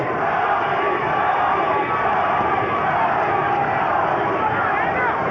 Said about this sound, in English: Crowd chanting Gotti, Gotti, Gotti.